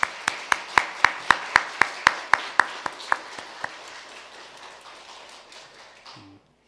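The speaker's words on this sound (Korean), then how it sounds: "우리 자리에 앉아 계신데 우리 큰 박수로 환영할까 합니다." A church congregation in Pyeongtaek, South Korea claps in unison during Sunday worship. There are around fifteen sharp, evenly spaced claps that start loud, then thin and fade into scattered patters before stopping.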